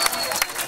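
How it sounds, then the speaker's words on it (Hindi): A crowd claps loudly at a patriotic Indian song event, with a thick burst of hand claps and some voices mixed in over a brief moment. "एक बार जोरदार ताली बजाओ सारे"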